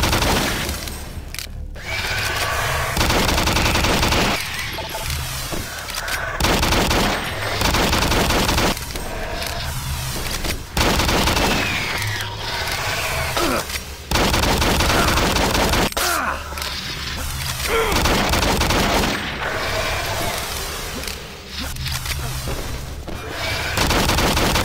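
A hypersonic machine gun pistol fires in Doom 3 in loud, dense rapid bursts that run almost without break, with short pauses and crashing impacts between bursts, and no voices.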